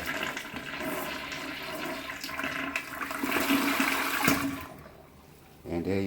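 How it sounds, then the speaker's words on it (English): A toilet flushes nearby during house cleaning, a loud rushing swirl of water that builds and then drains away, ending with a brief sound of refilling. "let me flush this, make sure this is clean"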